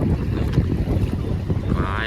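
A boat out on open water near Valsad, its steady rushing wash blended with strong wind buffeting the microphone, continuous and fairly loud for the whole stretch.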